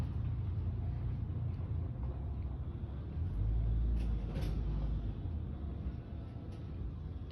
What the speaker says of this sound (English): It sounds like a truck just went in the ditch